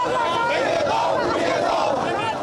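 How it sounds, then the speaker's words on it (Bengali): Crowd of marchers chanting together at a volunteer group's protest march through city streets, a loud, dense mass of voices sustained throughout. "পরে স্বেচ্ছাসেবক দলের বিক্ষোভ মিছিলটি নয়াপল্টন থেকে শুরু হয়, মৌচাক, মালিবাগ হয়ে শাহবাগে শেষ হয়।"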